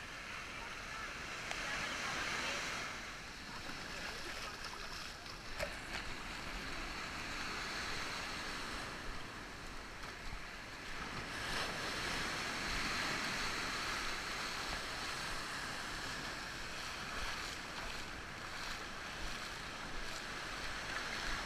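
Ocean waves at Cathedral Cove, New Zealand, rolling and washing in a steady broad roar, with wind and surf swelling gently.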